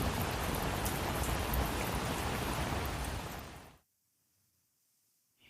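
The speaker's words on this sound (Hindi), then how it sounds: "लेकिन घर पर आते ही भयंकर बारिश शुरू हो गई" Heavy rain hisses loudly and steadily, then cuts off abruptly into near silence.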